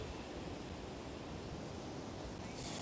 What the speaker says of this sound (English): I'm just going to listen to the waves and smell the ocean air.